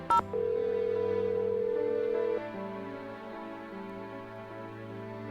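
A telephone in the Nancy Drew game Curse of Blackmoor Manor dials home, with a quick tone burst followed by long sustained electronic tones, alone and steady.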